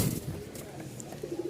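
Pigeons kept for hand-release flying cooing close by, soft low throaty murmurs over a faint background.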